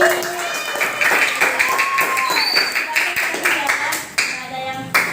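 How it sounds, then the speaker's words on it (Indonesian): Hands clap in scattered taps at an academic coaching and supervision session, mixed with lively voices and chatter throughout. "Tepuk tangan dong buat hari ini"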